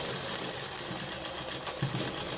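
A sewing machine stitches socks made from an old sweater, giving a steady, fairly quiet mechanical whir with a faint rhythmic pulse throughout.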